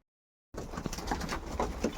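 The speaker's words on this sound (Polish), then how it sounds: "I tak sobie gołąbki tutaj jedzą." Pigeons feeding at a feeder, a close, busy patter of pecking and rustling with soft cooing that starts abruptly after a brief silence and continues to the end.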